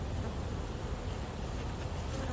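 A swarm of about 45,000 honey bees on a tree during a night-time rescue, a dense, continuous buzzing drone that is close and loud and carries through the whole stretch without any voices.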